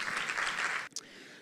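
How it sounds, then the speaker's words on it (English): Conference audience applauding for a presenter named Denise, a broad wash of clapping that swells briefly and then cuts off abruptly, leaving near silence. "Can we all give Denise a round of applause?"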